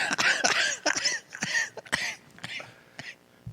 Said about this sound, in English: You know why you're coughing like that is because you smoke too much.